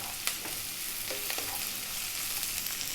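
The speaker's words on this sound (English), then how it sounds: "We're now going to drop in a nice amount of garlic." Garlic dropped into a hot pan with bacon and onions sizzles steadily and close, a constant bright frying hiss with a few scraping stirs and small pops, no talk.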